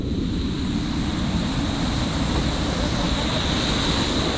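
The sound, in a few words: monsoon water gushing at Vellamalai tunnel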